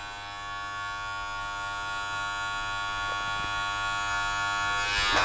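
Cheap Chinese electric hair clippers buzz steadily up close while cutting a taper fade, a constant motor hum that swells slightly louder near the end, with no speech.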